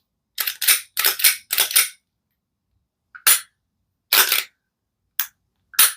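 A Glock 48 pistol is handled up close, giving crisp, sharp metallic clicks and snaps, first in a quick cluster of several, then a few spaced single clicks after a pause.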